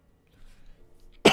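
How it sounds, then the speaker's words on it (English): A single sharp, loud cough bursts out at the very end from someone who is sick with a worsening cough, after a stretch of near silence with faint low murmuring. "I think my cough is getting worse and worse."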